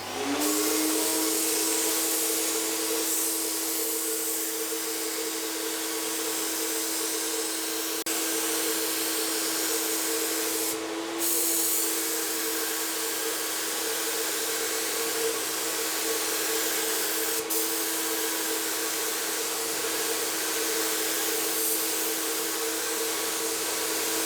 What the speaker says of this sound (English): that's now ready to spray, so we will do a quick demonstration of that.